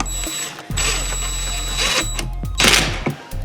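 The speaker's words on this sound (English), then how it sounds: "And here comes the impact wrench." An impact wrench loosening an oil drain bolt during a car service, firing in loud, sustained rattling bursts with brief pauses between them, close up and over a steady machine hum.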